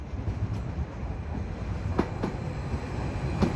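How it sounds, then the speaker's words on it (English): Greater Anglia passenger train from Norwich to London Liverpool Street arriving at Ipswich station, a steady rumble of rolling carriages with a few sharp wheel clicks and squeals, fairly close, no voices. "Incoming now is the delayed 1442 Greater Anglia service from Norwich to London Liverpool Street."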